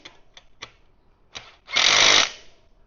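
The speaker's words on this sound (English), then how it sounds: "we're just going to nip up the bolts on either side of the mudguard." Bolts being tightened on either side of an electric tricycle's mudguard: a few sharp clicks, then a loud buzzing burst of a power tool lasting just under a second before it stops.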